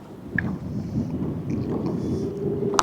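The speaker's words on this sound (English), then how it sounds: "It's still windy over here too." Wind buffets the microphone on a boat on a local lake during summer walleye fishing, a low continuous rumble with gusts, a few faint clanks and a brief sharp knock near the end.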